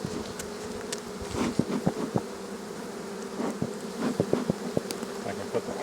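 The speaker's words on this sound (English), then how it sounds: "We gotta get these bees back down in there." Bees buzzing around an opened beehive, a loud close drone with individual insects zipping past the microphone, alongside faint rustling and handling noises and no talking.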